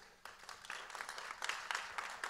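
An audience applauds at a business stage event, scattered clapping building into fuller, fairly soft and steady applause.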